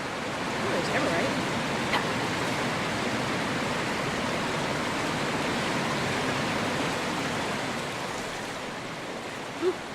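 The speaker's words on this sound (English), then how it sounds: "Ooh, noisy water." Rushing water roars steadily in Dragon Age Inquisition, a broad, constant hiss like a waterfall or fast stream that holds nearly unchanged throughout, with faint incidental clicks over it.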